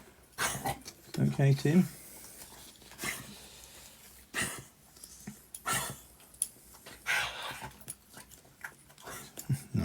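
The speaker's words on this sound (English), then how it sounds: "Noisy dog in the background" A dog barks in the background on a building site, a few sharp, fairly faint barks scattered among work noises while a person briefly speaks nearby.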